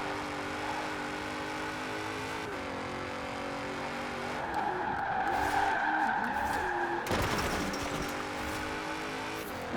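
A rear-wheel-drive V8 Lexus IS F in Forza Horizon slides around under a steady engine drone. The tires squeal and skid in the middle stretch, and a sharp burst of noise comes near the end.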